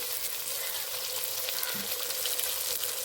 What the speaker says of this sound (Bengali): পেঁয়াজ আর টমেটোটা ভালো করে ভেজে নেব